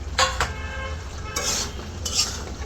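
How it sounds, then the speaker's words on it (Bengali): Potatoes tumble into a home cooking pot and get stirred, with a couple of scraping, clattering bursts of spoon against metal over a steady low background hum; no one speaks. "এখন আমি আলুগুলো দিয়ে দিব।"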